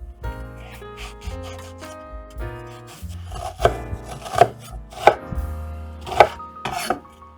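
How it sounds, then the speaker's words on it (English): A knife slices and dices a medium red onion on a cutting board, with irregular sharp chops that grow louder and more rapid midway, set over soft background music. "we're just gonna slice and dice"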